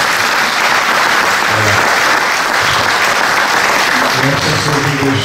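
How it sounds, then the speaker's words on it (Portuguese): Audience applause at an accordion festival, thick continuous clapping that stays loud and close, with voices murmuring faintly beneath it toward the end. "Um salve a palmas."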